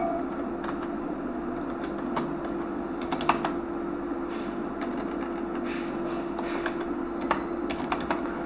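Fingers typing a school or college name on a computer keyboard, with light irregular clicks and short bursts of keystrokes over a steady background hum, close and fairly quiet.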